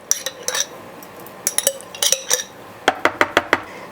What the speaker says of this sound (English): I'm just gonna empty this jar out here.